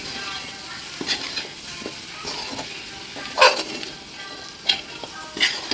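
Dry pepper chicken with coriander leaves and curry leaves is stirred in a hot pan. A constant close sizzle is broken by sharp scraping clicks of the utensil against the pan at irregular moments.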